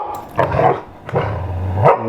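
A pet dog indoors in a small cabin gives two loud, close, rough barks with a growly, playful edge, separated by a short pause.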